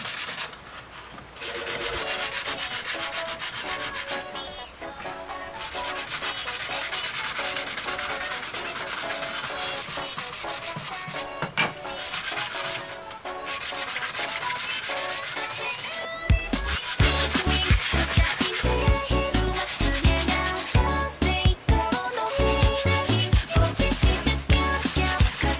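Sandpaper rubbed by hand over wooden boards for a table top and legs, close scratchy strokes in steady repeated passes with brief pauses, growing louder and coarser in the second half.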